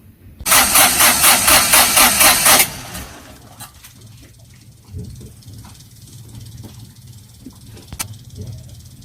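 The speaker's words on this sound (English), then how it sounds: "Generator." Boat generator engine on a trawler cranking with a loud rhythmic starter chug for about two seconds, then settling into a quieter low idle with faint background noises.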